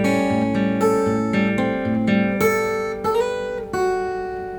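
Guitar plays the chorus lick of a song, a short run of clean plucked notes that ring and overlap, ending on sustained tones. It is played alone, close and clear, with no voice.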